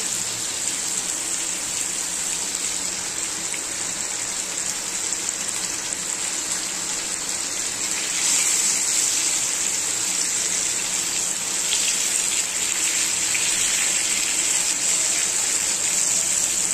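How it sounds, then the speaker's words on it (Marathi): Continuous rain pours outside as a steady broadband hiss that swells slightly louder in the second half, with no voices. "बाहेर पाऊस पडतोय."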